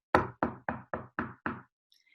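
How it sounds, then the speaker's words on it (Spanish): Six sharp, evenly spaced knocks on a door, loud and close, with a faint high sound trailing after. "Emma escuchó que tocaron a su puerta"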